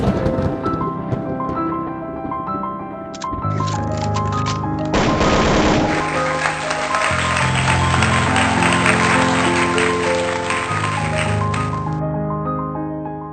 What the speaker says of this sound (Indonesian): Berikan sorak-sorai buat Yesus Tuhan